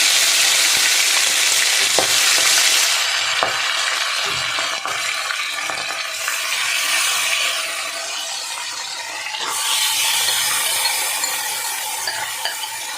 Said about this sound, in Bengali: আস্তে আস্তে করে ছাড়তে হবে বন্ধুরা, নাহলে তেল ছিটকে গায়ে লাগতে পারে